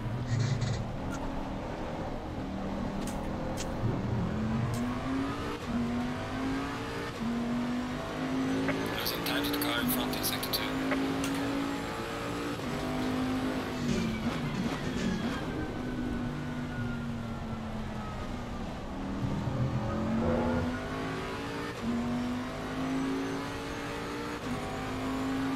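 Race car in Assetto Corsa Competizione at Donington entering the pits, its engine a steady droning note that dips and rises as it slows, with someone talking over it throughout.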